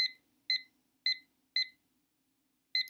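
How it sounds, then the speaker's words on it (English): A kitchen timer gives five short, bright electronic beeps, about half a second apart with a pause before the last, loud and close against an otherwise quiet room. "So I've started my timer."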